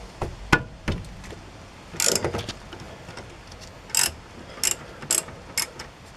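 A hand ratchet loosens brake caliper bolts on a Chevy Silverado's rear brakes, giving bursts of rapid clicking in several short, separate runs with pauses between them, close and moderately loud, with no speech.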